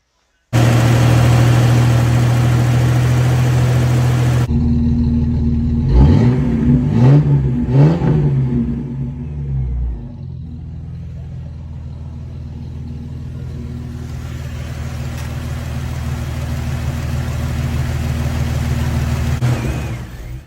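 A rebuilt Jeep 4.0 straight six cranks and fires up, revs briefly with rising and falling pitch, then settles into a steady, fairly loud idle nearby.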